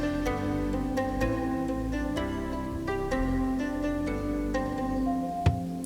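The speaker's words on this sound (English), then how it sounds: "Mandolin to end the track." Mandolin closing out a produced track, quick bright plucked tremolo notes ringing over a dense, steady bed of sustained accompaniment, moderately loud with no speech.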